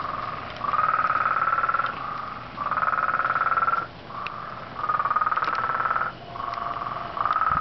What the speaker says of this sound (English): And we only hear these frogs.